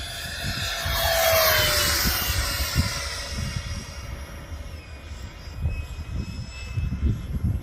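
A loud, high-pitched whine of a HobbyKing D.H. Vampire model jet's older five-blade ducted fan swells and passes in flight, then settles into a steadier roar with a rough, buzzing edge.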